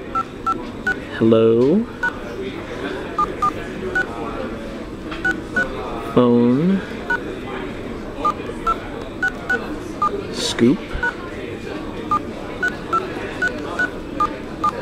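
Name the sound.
phone keypad tones while typing a message with T9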